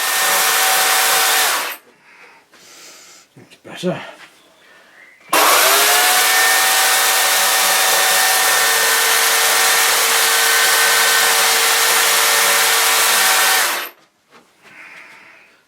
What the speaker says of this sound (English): I've got to use the chainsaw